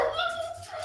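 Dogs give a short, high, whining bark indoors, close and fairly loud, overlapped by people talking.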